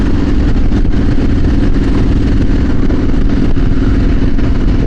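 A motorcycle engine runs at a steady idle close by, a loud, even mechanical drone with a faint rhythmic clatter and no change in pace.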